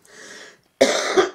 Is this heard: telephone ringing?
no